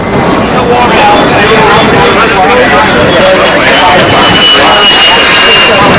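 A loud, steady model jet engine roar from an RC scale aircraft, with a high whine running through it, continuous throughout, while people talk over it.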